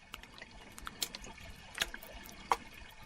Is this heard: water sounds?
yes